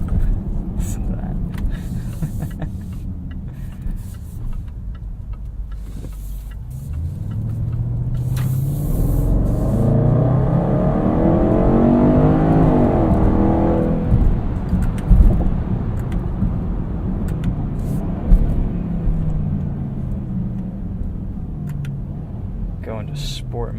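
A 2018 Range Rover Sport with a supercharged V8 builds from a low rumble into a rising engine surge midway, heard from inside the cabin at steady moderate loudness, then settles back to a cruising drone.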